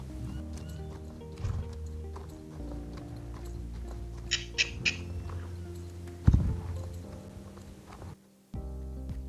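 A horse hand-gallops over a jump and ground poles during cross-country training, its hoofbeats a steady rhythmic pounding with occasional sharper thuds, heard close and continuous.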